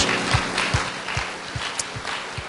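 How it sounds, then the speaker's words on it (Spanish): A church congregation applauds in praise, a steady rush of clapping hands with a regular low thumping beat underneath, sustained and fairly close. "¿Puede darle un aplauso de alabanza a nuestro Señor Jesús?"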